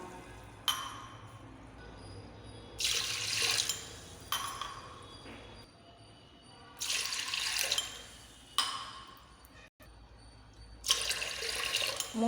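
Milk being poured over washed raw rice for curd rice in a kitchen, heard as a series of six close, splashing pours with short pauses between them and no talking.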